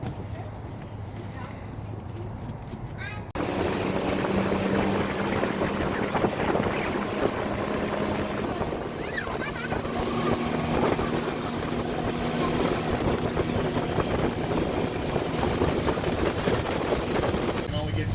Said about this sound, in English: Little swamp boat ride through the swamps out here in Slidell, Louisiana.